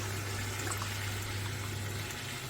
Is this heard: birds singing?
no